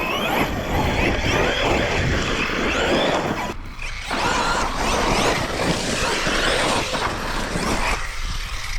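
An Arrma Kraton V6 RC car runs steadily over smooth whoops outdoors, its loud, continuous broadband roar of motor and tires rising and falling with a brief dip midway, close and alone without talk.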